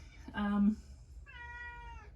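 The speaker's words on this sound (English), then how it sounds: "He's just gonna meow in my window now." A Siamese cat meows at a window, giving two close, fairly soft calls, the first short and the second longer and drawn out.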